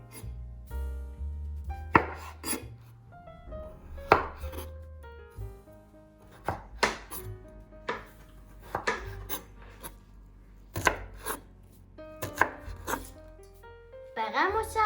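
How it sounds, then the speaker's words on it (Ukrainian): Vegetables being chopped on a cutting board for mushroom soup, with irregular knife strikes and scraping, under a voice heard through much of it. "Спочатку для обох зубок я наріжу овочі."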